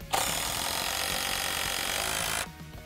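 A power drill drives a SPAX PowerLag screw into wood, giving one loud, continuous whirring and grinding run of about two seconds close by before it stops abruptly.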